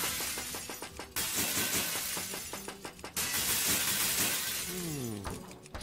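Glass shatters in the video game Hearthstone amid loud, busy game effects, with repeated crashing bursts and a descending tonal sweep near the end.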